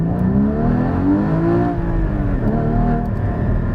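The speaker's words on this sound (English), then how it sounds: "it rev matches and auto blip downshifts for you" A Porsche Cayman GT4 engine revs loud and close, its pitch climbing and dropping through rev-matched auto-blip downshifts, a smooth continuous drone with quick throttle swells and no talking.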